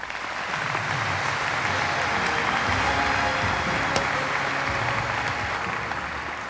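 Audience applause fills a morning event hall as a speaker takes the stage, with steady, dense clapping that holds at full strength throughout.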